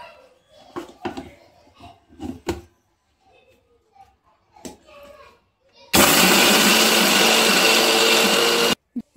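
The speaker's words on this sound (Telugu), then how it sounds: "దీన్ని ఇప్పుడు మిక్సీ పడదాం." Voices talk over quiet kitchen sounds before a mixer grinder loaded with coriander seeds and salt roars into a loud, steady whir. It grinds for about three seconds, then cuts off abruptly.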